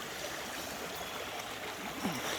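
Creek water flowing over rocks at a gold prospecting spot, a soft, steady trickling and burbling heard close by and fairly faint, with no voices.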